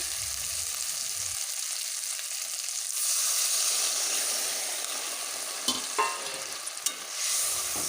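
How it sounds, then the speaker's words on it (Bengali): Rupchand fish and potatoes fry in a pan for a spicy curry, a steady hiss of sizzling oil broken by a couple of brief scraping clinks as the mixture is stirred. "একটু বেশ কিছুক্ষণ ধরেই কষিয়ে নিচ্ছি"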